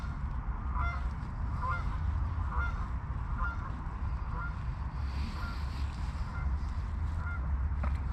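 A flock of geese honks on and off in the woods, fairly distant, in scattered calls over a constant breezy outdoor rumble.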